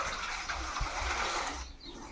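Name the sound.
water running into a carboy being filled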